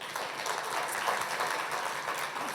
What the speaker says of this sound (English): So a big round of applause, please, for our panel.